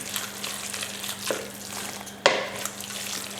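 Food frying in sesame oil while being stirred, a steady close sizzle with scraping strokes of the utensil and one sharper clatter partway through.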